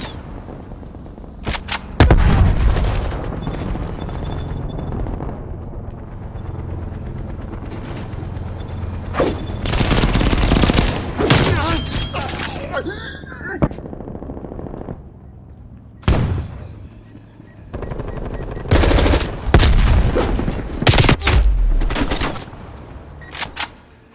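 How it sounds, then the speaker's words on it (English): Artillery and gunfire in Call of Duty: Black Ops Cold War: sharp rifle shots and bursts scattered throughout, with heavy booming impacts around the middle and later moments over constant battlefield noise. "Artillery targeting detected. Net call. Incoming artillery."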